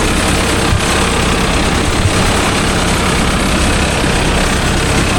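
A Mahindra Arjun Novo 605 DI tractor engine runs at a steady, loud diesel drone throughout, with no break or change in pace.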